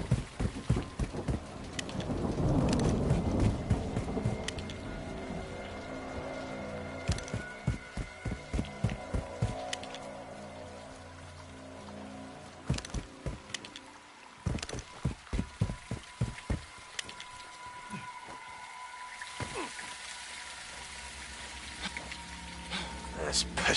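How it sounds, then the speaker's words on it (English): Heavy rain pours steadily in Call of Duty Modern Warfare 2, a dense wash of downpour beneath intermittent clattering footsteps and occasional character dialogue. "It's raining fucking hard."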